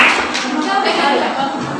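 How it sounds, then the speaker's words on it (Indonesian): A school class claps hands together in a brief, fairly loud burst of overlapping claps, with a teacher's voice over it. "Oke, tepuk tangan ya, oke."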